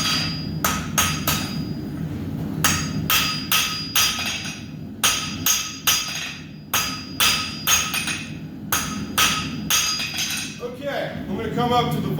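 A blacksmith hammers hot steel while forging a tapper, striking with rapid, sharp, ringing metallic blows in quick bursts separated by short pauses, close and loud over a steady forge roar.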